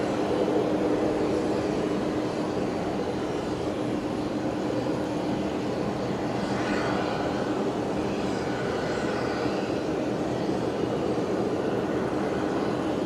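China Airlines aircraft on final approach to runway 01 at Brisbane Airport, a steady, distant jet engine roar holding evenly throughout with no breaks.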